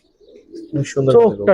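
A Giribaz pigeon of an old laddu breed coos close by, a few soft throaty calls rising in short bursts over about a second.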